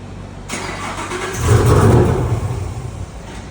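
Engine of a 2018 Chevrolet Camaro on a dyno, starting up and then revving hard for a pull, a loud, close roar that swells midway and settles back without any talk.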